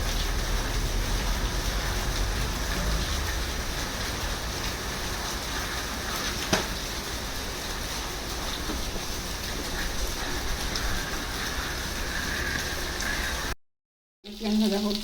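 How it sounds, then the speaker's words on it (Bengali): Light rain falls steadily at night as an even, continuous hiss of drops. It holds at the same moderate level throughout, apart from a brief dropout near the end. "বৃষ্টি একটু পড়ছে"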